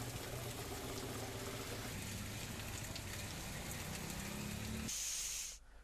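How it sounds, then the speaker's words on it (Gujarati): Heavy rain pours down across a rural village area near Kagvad in Gujarat, a dense, steady hiss that stays loud throughout before cutting off abruptly near the end. "કાગવડ સહિતના ગ્રામીણ વિસ્તારોમાં ધોધમાર વરસાદ પડી રહ્યો છે।"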